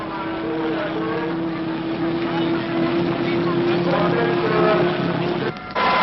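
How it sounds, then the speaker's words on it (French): A racing motorboat departs on a river raid, its engine giving a steady, loud drone throughout with a faint higher whine, then a brief dip near the end. "Départ du bateau numéro 40"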